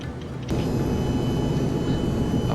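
Cabin hum inside a Star Air Embraer 145 regional jet in a flight simulator, a steady low engine and airflow drone that swells louder after a brief quieter start and holds evenly.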